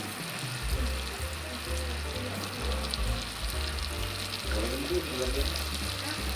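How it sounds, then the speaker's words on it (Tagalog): Onion sizzles in melted butter in a pan, a continuous close frying hiss with a low background hum. "Pag-melt na yung ating butter, una kong igigisa ay onion."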